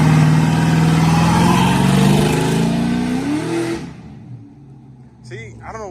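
LS-swapped Ford F-150 truck engine revving hard and loud, pitch climbing over several seconds before cutting off abruptly, followed by a quieter idle and a brief voice near the end.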